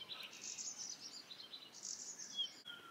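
Birds chirp and tweet in a fruit garden at a rural homestay, faint high twittering calls repeating through the quiet, with soft insect sounds beneath and no voices.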